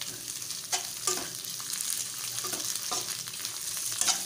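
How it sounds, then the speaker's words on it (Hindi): Green chillies fry with chicken in a kadhai, giving a low steady sizzle broken by a spatula scraping the pan every second or so. The sound is close but fairly quiet, with no voices. "हरी मिर्चें ये थोड़ी सी फ्राई हो गई हैं"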